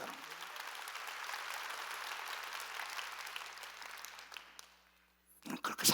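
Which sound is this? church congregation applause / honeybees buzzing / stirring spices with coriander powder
church congregation applause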